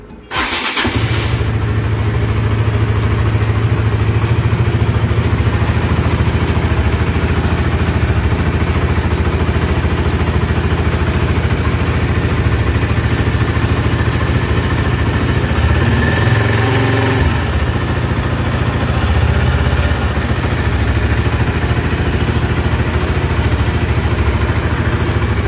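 A Honda Sonic motorcycle running on Suzuki-spec oil cranks and fires up, then idles loudly and steadily up close with a constant low throb for a long stretch, with a brief change in tone partway through.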